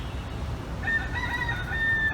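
A rooster crows on a city street in Ybor City, a drawn-out call that rises out of low traffic-like street rumble partway through and carries to the end, fairly clear at moderate distance.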